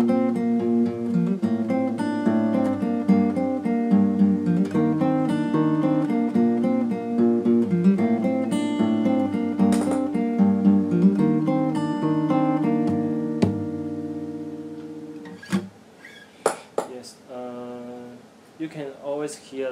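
Fingerstyle acoustic guitar plays the opening of a song, plucked melody notes over ringing chords in a steady, close, solo performance, ending with a few scattered strums and finger noises.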